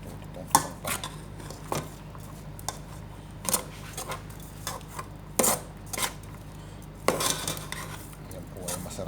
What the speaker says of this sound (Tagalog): So kailangan lang po nating haluin ang kanin.